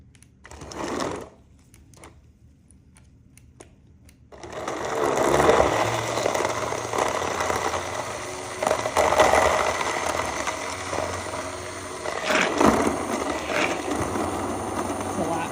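A Vitamix immersion blender runs in a wide-mouth jar, a brief whir first, then a sustained buzzing motor drone with shifting pitch as it works through the contents, close and fairly loud.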